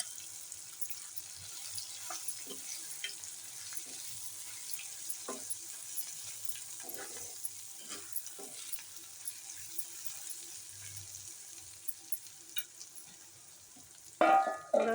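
Fenugreek leaves coated in gram flour frying in a kadhai and being stirred, giving a faint, low sizzle with soft scattered scraping taps, quiet throughout and without talk.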